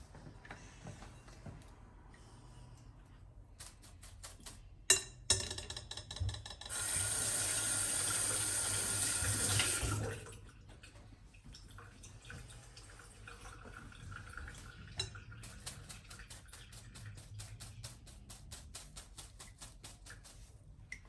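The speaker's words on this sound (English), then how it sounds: "I'm actually going to fill up my sink with water" Tap water runs into a kitchen sink to fill it, a loud steady gush for a few seconds amid quieter drips, clinks and handling noises before and after, with no talking.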